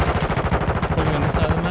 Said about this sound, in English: Way too loud when you shoot guns.